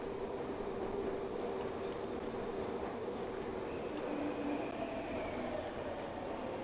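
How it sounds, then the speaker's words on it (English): A subway train arrives in the video game Splatoon 2, a steady, moderately quiet rolling rumble with faint wheel squeal and rail noise throughout, no voices. "the subway is sort of like the main level selecting in this game. Which is what's coming in right now."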